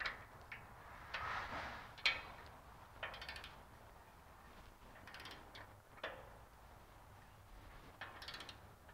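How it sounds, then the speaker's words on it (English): A ratchet turns a socket on the O2 sensor of a 2000 Honda Civic 1.6L. It makes quiet, irregular bursts of clicking with metallic taps and pauses between strokes, close by and faint, with no talking. "we could either use a wrench on there or we can use our ratchet"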